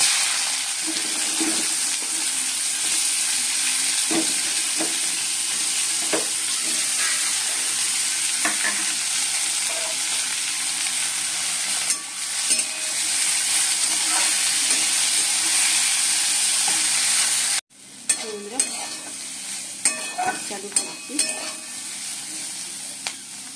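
Chopped bitter gourd fries in hot oil in a wok with a steady, close sizzle and crackle, occasional stirring knocks, and a brief sharp dip before the frying resumes.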